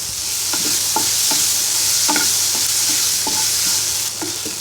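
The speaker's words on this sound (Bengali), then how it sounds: "টমেটোটা সেদ্ধ না হওয়া পর্যন্ত আমরা ভাজতে থাকবো।" Chopped tomatoes frying in a pan for an eggplant mash, a constant loud sizzle broken by repeated scraping clinks of a spoon stirring.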